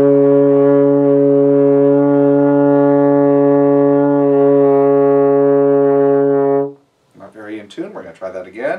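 A brass instrument holds one long, loud, steady note for about six and a half seconds before cutting off, then a voice starts talking just after.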